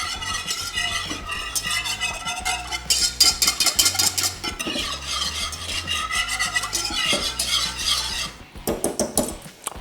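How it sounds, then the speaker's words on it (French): Apricot and almond milk cream with vanilla pods is stirred in a pot, a steady scraping and swirling with spoon clinks against the metal, loud and close, continuing without pause and with no talking. "Alors je remue bien tout ça."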